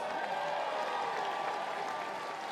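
Spectators at a men's basketball grand final cheer and applaud in a dense, sustained roar of clapping and shouting voices that holds steady throughout.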